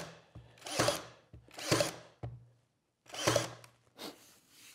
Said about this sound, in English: I'm going to pin nail it just to keep it in place while we do the rest of it